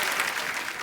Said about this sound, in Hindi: जोरदार तालियां एक बार रिंकू फौजी और ननद के लिए